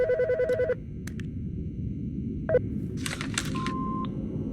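Electronic phone ringing from the game Autopsy Simulator ends a burst, followed by a brief beep and scattered clicks and tones over steady low background noise; no voices.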